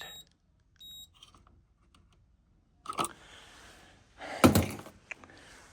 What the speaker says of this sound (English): On that side of the switch, we're beeping.